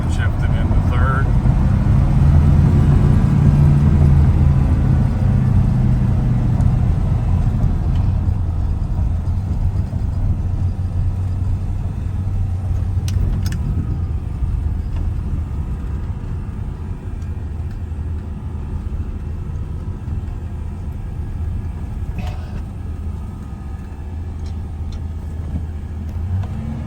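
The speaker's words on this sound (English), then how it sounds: "I'll shift through the 4-speed gears for you" A 1987 Chevrolet K20 truck with a 4-speed gearbox drives along a road with a steady low engine rumble that shifts slightly as gears change. Someone talks over it throughout.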